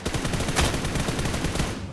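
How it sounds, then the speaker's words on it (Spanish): A rapid burst of gunfire hits a door in the battle royale game New State Mobile, dense and continuous for about two seconds, loud and close with no talk. "si yo disparo a cualquier puerta va a pasar lo siguiente"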